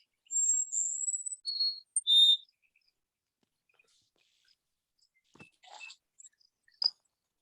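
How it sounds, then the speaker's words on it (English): Cassin's sparrow song in Arizona spring: a male's clear, high sustained whistles followed by short trills and chips, then a quieter, scratchier phrase and a final sharp note, heard alone and fairly close. "This is the Cassin sparrow, and the Cassin sparrow has an equally beautiful song. Here's the Cassin sparrow's song."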